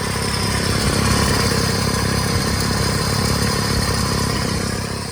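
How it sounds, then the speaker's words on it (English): A 1992 Mercedes-Benz 300TE inline-six engine running steadily at idle, loud and close, with a constant mechanical hum and clatter throughout. "have a listen to that engine and see the belts running"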